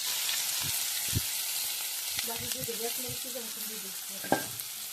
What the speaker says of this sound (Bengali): তেল গরম শেষ, এবার মরিচ পেঁয়াজ সব দিয়ে